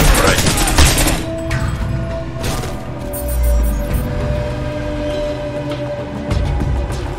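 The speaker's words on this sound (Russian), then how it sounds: "это так пистолет стреляет?" Pistol shots in Crysis Remastered, several sharp gunfire cracks spaced unevenly over game ambience with low rumbling booms, fairly loud and close.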